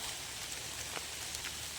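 Light rain falls steadily in a wooded area of Ubon Ratchathani province, Thailand, a soft, even patter with a few brighter drops, faint and continuous, with no voices.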